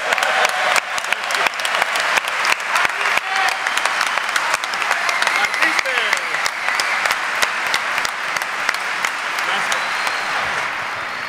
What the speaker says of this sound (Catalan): que us aplaudeixin